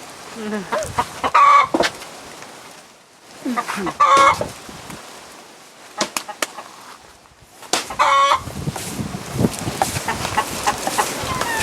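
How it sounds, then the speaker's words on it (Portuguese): Chickens cluck and squawk repeatedly at close range in loud, bursting clusters, with a rooster crowing among them and a voice now and then over the flock. "Cala a boca, galinha."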